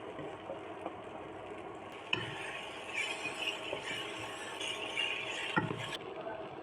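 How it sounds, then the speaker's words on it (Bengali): Potatoes fried in a pan with Maggi masala for an egg-potato bhujia, a faint steady sizzle with occasional stirring knocks and scrapes, no voices. "এইভাবে আলুগুলোকে ভেজে নেব তিন চার মিনিট মতো"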